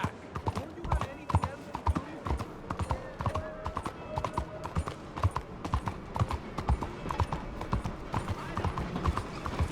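Horse hooves clip-clopping steadily on a trail in the video game Red Dead Redemption 2, a quick continuous gait heard up close while someone talks and calls out over it.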